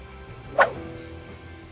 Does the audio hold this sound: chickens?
no